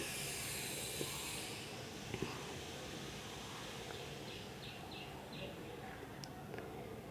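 Ghugni of chickpeas and spice paste bubbling after the chickpea boiling water goes in: a soft continuous hiss and low simmer, with a few faint clicks and small pops, near and unaccompanied by speech.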